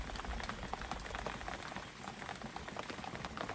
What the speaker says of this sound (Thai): อยู่ๆฝน ก็เกิดตกแบบตกหนักจริงๆครับ